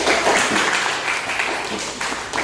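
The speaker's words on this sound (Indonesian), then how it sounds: "Berikan aplaus untuk kelompok 1" Applause from a classroom of students after a student group finishes its presentation, a steady burst of many hands clapping at close range for a couple of seconds.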